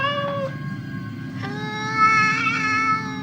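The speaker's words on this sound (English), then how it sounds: "And then she starts hearing a cat meowing." A cat meows in long, drawn-out, wavering cries over a low rumbling background, in a scene from the 2004 horror film The Grudge.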